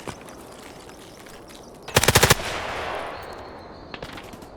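Gunfight in the shooter game Escape from Tarkov: a short burst of about five rapid automatic gunshots, fairly close and loud, followed by a fading echo and a few fainter distant shots over quiet outdoor ambience.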